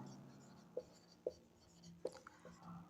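Chalk or pen writing a formula for mass percentage, a few faint isolated taps and short scratches spaced apart, with quiet room noise around them.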